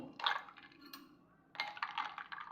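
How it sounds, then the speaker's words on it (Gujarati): Hard little clinks and knocks of ice cubes dropping into a glass of lemon juice and water, a short burst followed by a longer, busier rattle, close by with no voices. "અને બરફના ક્યુબ નાખી દેશું"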